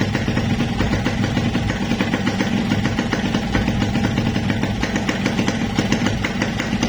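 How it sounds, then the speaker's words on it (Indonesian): A Yamaha RX King two-stroke motorcycle engine idles with a steady, loud, close-up putter and fine rhythmic knocking, running alone without talk. "Halus tapi mesinnya."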